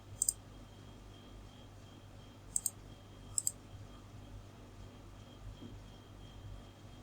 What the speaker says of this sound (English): I'm going to click on send